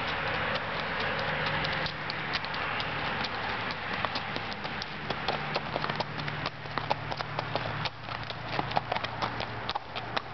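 A calm, gentle horse walks at a steady pace, its hooves clip-clopping in an even, repeating rhythm, fairly close and clear with no talk over it.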